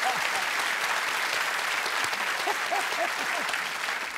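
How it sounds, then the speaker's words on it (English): A studio audience at a TV quiz show gives a steady round of applause for a contestant, dense loud clapping filling the whole stretch, with some cheering or voices faintly under it. "Everyone, give Rowan a round of applause."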